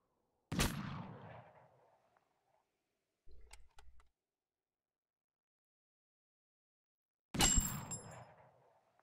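Handgun shots at a shooting range in the video game Totally Accurate Battlegrounds: two loud, sharp reports several seconds apart, each with a ringing tail, separated by a brief softer clatter in between.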